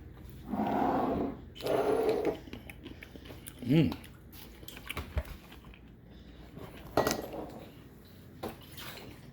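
Someone bites into a crunchy homemade refrigerator dill pickle made with garlic, giving a couple of crisp crunches followed by chewing, with jar and dish clinks and brief talk between bites.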